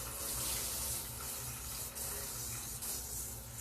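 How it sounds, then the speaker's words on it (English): Tap water runs steadily into a kitchen sink as a mixing bowl is rinsed out after baking, a continuous close splashing rush with small shifts in flow and no talking. "I'm just rinsing this out"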